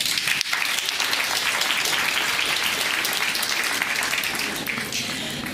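A hall audience gives sustained, steady applause to welcome art historian Werner Spies at a 2012 conversation event; dense clapping stays loud and even throughout without talk.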